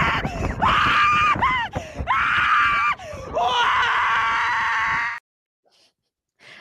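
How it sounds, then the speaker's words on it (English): A man screams loudly and excitedly in a run of drawn-out, wavering yells with short breaks between them, then falls abruptly silent for the last second or so. "Makes me scream."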